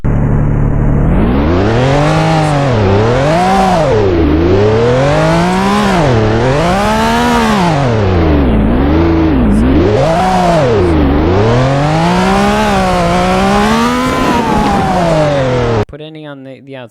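A car in the Roblox video game races among trees. Its synthetic engine tone swoops up and down repeatedly as it revs, loud and continuous for about sixteen seconds, then cuts off abruptly.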